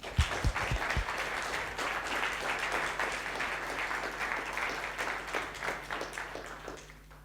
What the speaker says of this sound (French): je propose d'applaudir Cyril pour sa performance